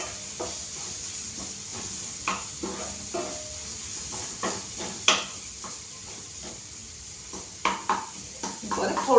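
Ginger-garlic paste and capsicum sautéing in a pan for pav bhaji, giving a steady soft sizzle broken by scattered spoon scrapes and clinks against the pan.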